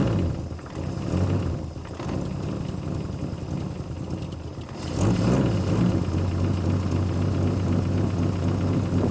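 Abandoned Plymouth Barracuda engine idling: a rough, steady rumble with a knocking, uneven beat, close and loud, which swells and settles into a fuller idle partway through.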